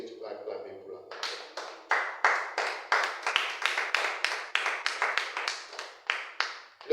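A church congregation breaks into rhythmic clapping, a steady run of sharp, loud claps following a brief spoken or sung passage, with voices mingling beneath the beat.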